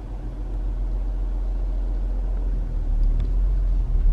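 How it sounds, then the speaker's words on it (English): A car in third gear rolls away on clutch alone with no throttle, giving a steady low engine rumble that holds close and even, with a slight swell near the end. "We're in third gear, and if I slowly let off the clutch,"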